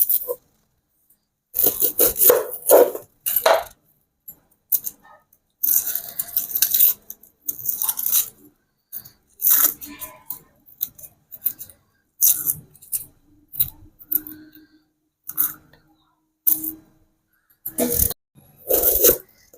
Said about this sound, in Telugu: రెండు మీడియం సైజు ఉల్లిపాయలు కట్ చేసి పెట్టుకుందాం.